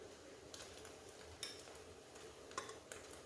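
A spoon stirs plum chutney cooking in a pot, giving occasional faint scrapes and taps against the metal over a soft, steady background.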